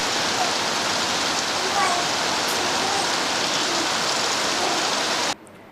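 Heavy rain pours steadily outdoors during a flower Karaga temple festival in Bhagat Singh Nagar, a dense continuous hiss that holds evenly before cutting off abruptly near the end.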